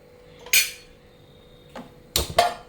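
A metal pot for mutton biryani set down on a stove with a few sharp clanks: one knock, a faint tap, then two close metallic bangs near the end, with no talk.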